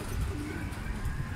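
Racing pigeons coo softly in low, rolling murmurs, a continuous close-up chorus from a loft of birds.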